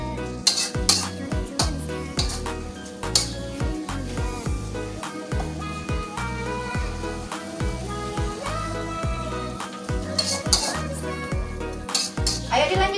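Spoon scraping and clinking in a pan as sauce with 100 ml of added water is stirred for chicken liver and gizzard in green chili sambal, steady close clatter under rhythmic background music.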